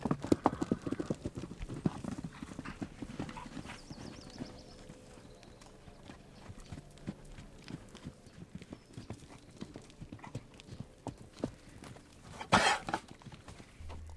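Horse hooves clip-clop steadily on hard ground, a brisk uneven rhythm with a loud snort or whinny near the end, no talking.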